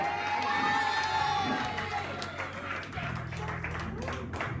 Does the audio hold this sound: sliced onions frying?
no